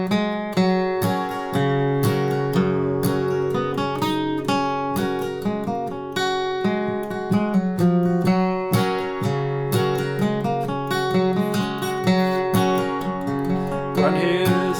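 Solo acoustic guitar picks the bluegrass tune Groundhog at a slow, even pace. Crisp plucked notes and bass runs are close and steady throughout, with no voices.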